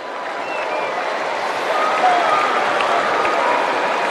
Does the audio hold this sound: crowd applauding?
yes